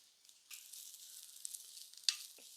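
Grated coconut, garlic and shallots roast in a pan with a soft, dry sizzle, occasional scraping stirs and a sharper clink near the end, fairly quiet and close.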